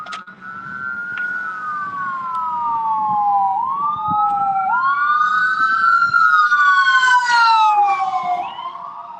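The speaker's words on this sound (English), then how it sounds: "We let the ambulance pass" An ambulance siren wails past on a city street, loud and near, its rising and falling tone sweeping and shifting in pitch as it goes by, with faint traffic rumble underneath.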